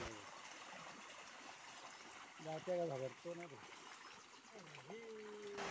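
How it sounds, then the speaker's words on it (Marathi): Irrigation water trickles and flows steadily through a wooden plank into a rice paddy in Konkan, a soft continuous wash heard beneath someone talking nearby. "हे बघा कसं पाणी निघालंय पहिल्या फळीतून."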